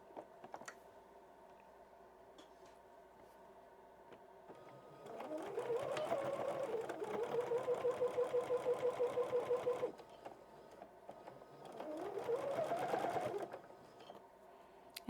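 A sewing machine stitches the seam of a pumpkin-themed t-shirt, revving up into a steady rapid whir for several seconds, stopping, then one shorter burst, close with quiet handling noise in the gaps.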